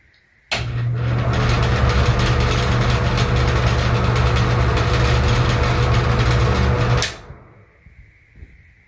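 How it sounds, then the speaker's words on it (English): A loud Broan NuTone bathroom exhaust fan switches on with a click, runs with a steady droning hum for several seconds, then shuts off and winds down. "This fan is very loud. Let me turn it on and test out for you guys"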